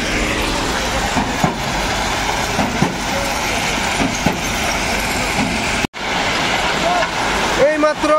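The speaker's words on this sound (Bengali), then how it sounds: "নসিপুর রেল ব্রিজের দিকে পাথরের গাড়ি ছুটছে" A stone-laden goods train rumbles toward the Nashipur rail bridge near Azimganj Junction, a loud continuous roar with clanking, and someone talks over it.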